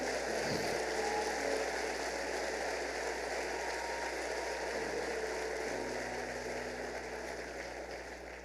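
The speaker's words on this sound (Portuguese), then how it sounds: "Pode aplaudir o Senhor" A church congregation applauds steadily, a dense, even wash of clapping that continues without pause and slowly fades toward the end.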